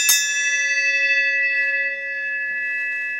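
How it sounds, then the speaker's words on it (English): A bell rung once at the front door of a house, a bright metallic strike with a sustained ringing tone that slowly fades, with faint shuffling in the background. "Ring the bell."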